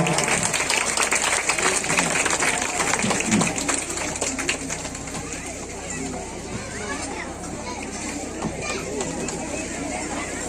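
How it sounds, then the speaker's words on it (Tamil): A crowd at a Sai Baba temple event claps steadily for around ten seconds, the applause fairly loud and mixed with crowd chatter, children's voices and occasional bird calls. "எல்லாரும் கைதட்டுங்கம்மா"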